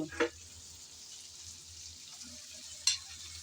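Fish going into a pan of fried cauliflower curry: a soft, steady sizzle throughout, with two brief sharper splashes and crackles as pieces drop in, quiet and close.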